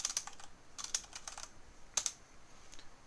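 Quick bursts of typing on a computer keyboard, close crisp key clicks in short clusters with small gaps between them, against a quiet background.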